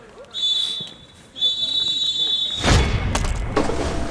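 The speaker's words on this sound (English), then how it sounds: "he blows for the half-time whistle" A referee's half-time whistle at a football match sounds two long shrill blasts, the second held longer, over crowd noise that swells loudly near the end.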